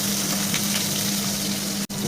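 Chopped capsicum sizzles in hot oil with a steady, close frying hiss and faint crackles, broken once by a very brief dropout near the end.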